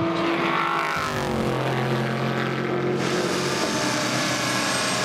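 Leading GT endurance race cars, a Porsche and an Aston Martin duelling for the lead at Circuit of the Americas, roar past with loud, sustained engine noise and a rising then falling pitch as they go by.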